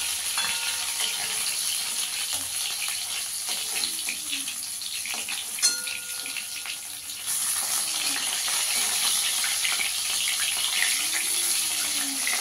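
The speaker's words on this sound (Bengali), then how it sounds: "মাছটাকে একটু লাল লাল করে ভেজে নেব।" Small fish frying in hot oil, a continuous close sizzle with occasional stirring and clinks. A brief knock sounds midway, with no talk.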